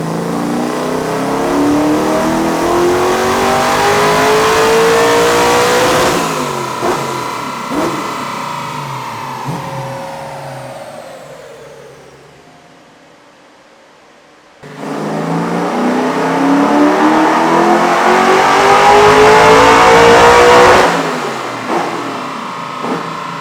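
Lemon Twist car on a dyno revving loudly through a long pull as the engine pitch climbs, then backing off to a lower drone before a second hard, rising pull, with no talk.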